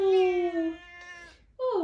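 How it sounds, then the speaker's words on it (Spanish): A house cat gives a long, close meow that falls in pitch, then a second shorter meow after a brief pause, indoors at home. "¡Gato!"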